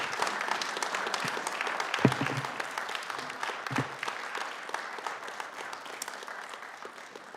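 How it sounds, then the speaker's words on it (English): Attendees at a Narragansett Town Council meeting give a sustained round of applause for award recipients, the clapping dense and steady with a few brief voices and louder claps mixed in, tapering near the end. "I just want to give another round of applause to all of these well-deserved recipients of the Knights of the Rockingham Arch"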